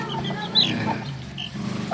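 A scaleless-leg hen clucks softly and steadily at close range, a low repeated murmur with a brief higher call near the start, no voices over it.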